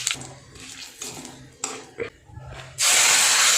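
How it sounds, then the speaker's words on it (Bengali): Cumin, bay leaf and dried chilli tempered in hot oil: scattered utensil clinks and clatter under quiet talk, then a sudden loud close hiss of spices hitting the oil for the last second. "এবার এর মধ্যে দেব জিরে তেজপাতা আর একটু শুকনো লঙ্কা ফোড়ন দিয়ে এটাকে ফোড়ন দিয়ে দেবো"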